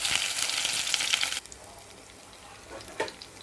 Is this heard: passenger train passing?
no